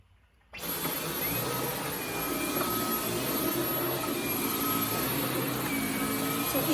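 A Dyson V11 Absolute cordless vacuum cleaner runs on carpet, switching on abruptly after a moment of quiet and then holding a steady, loud, whooshing whine.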